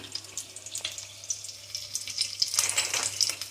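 Spices frying in oil in a pan for a Marathi-style egg curry, a steady close sizzle and crackle that swells louder toward the end, with no talking.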